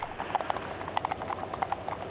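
Horse or pony hooves clip-clop on hard ground in a steady, fairly quick rhythm of distinct knocks, moderately close and alone without talk.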